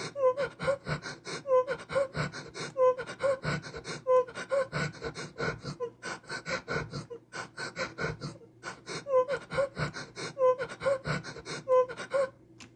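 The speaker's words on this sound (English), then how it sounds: "And then now we have a panting" A looping panting sample plays in music production software: quick, rhythmic, breathy gasps repeating steadily and close up, with no talking.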